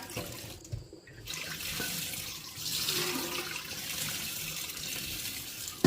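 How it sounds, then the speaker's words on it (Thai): Sticky rice is washed in water in a kitchen sink for mango sticky rice, with steady running and swishing water close by and a brief lull near the start. "เดี๋ยวแม่ขอล้างข้าวเหนียวก่อนนะคะ"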